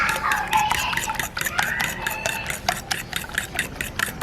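A spoon stirs turmeric, pepper powder and other spices into a pan for an egg poriyal, scraping and clinking against the pan in a quick, steady, close rhythm.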